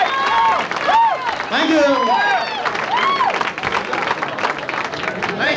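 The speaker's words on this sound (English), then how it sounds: "Oh, the wind from your applause." A comedy club crowd claps and cheers to welcome a comedian onstage at a late Saturday show, and the comedian's voice speaks briefly over the applause.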